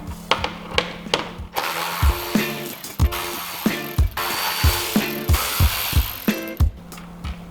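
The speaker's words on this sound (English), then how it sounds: "Now we're going to take these 4 outer screws off." Quick mechanical ratcheting clicks come in repeated short bursts as the four outer screws are backed out of a Harley-Davidson speaker mechanism during a Hertz 6x9 speaker install. The sound is close and fairly loud, with no talking.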